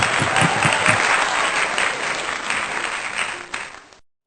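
Congregation at an online Sunday worship service in a church breaks into dense, sustained applause that holds steady before fading out near the end, with no voices over it.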